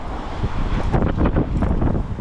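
Strong wind gusts buffet the microphone, producing a loud, rumbling roar that swells and eases in irregular bursts.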